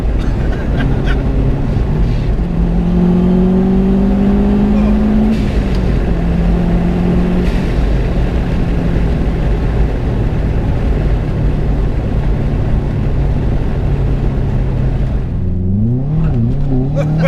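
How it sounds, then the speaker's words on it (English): A modified 500 bhp Subaru Forester with four-wheel drive accelerates hard, its engine drone rising and falling in pitch through gear changes, loud and close from inside the car with steady road roar underneath. "Make that four-wheel drive work there, Johnny."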